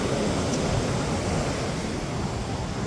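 Strong wind and ocean surf at a beach blend into a dense, even roar, loud and unbroken for about three seconds with no voices.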